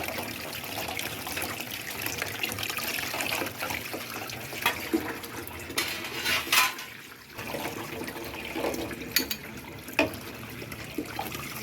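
Tap water drawn from an outside tube well runs steadily from a faucet, a continuous trickling flow at close range with a few brief splashy bursts and no talk.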